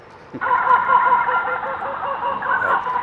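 A rooster crows as a farmyard sound effect, loud and close, one long drawn-out call that fills the moment on its own.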